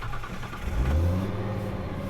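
An 800hp Nissan R34 GT-R race car with an HKS RB28 engine, sequential gearbox and 4-inch exhaust revs up close. The deep, loud rumble swells midway and then holds steady, with no talking.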